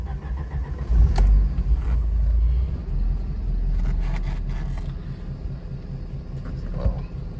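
A 1991 Alfa Romeo Spider's engine starts and settles into a steady running idle, a low rumble close by with no talk over it.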